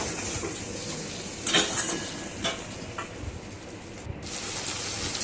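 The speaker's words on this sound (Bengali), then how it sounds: "একটু লাল লাল করে ভেজে নিতে হবে।" Spiced bhetki fish curry with potato and taro is fried and stirred in a pan, giving a soft, steady sizzle with occasional scraping and clinks of a utensil against the pot.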